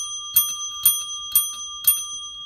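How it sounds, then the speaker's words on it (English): Bell rings four times in an even rhythm, about half a second apart, each strike a bright metallic ding with a lingering ring, close and clear in a quiet room. "That's my bell ringing for Coffee and Jam with Chris."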